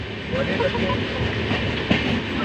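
A Gwalior–Banaras Express train stands at Gwalior Junction, with steady rail and station rumble, a faint clatter and one brief louder knock near the end, all at a moderate, constant level.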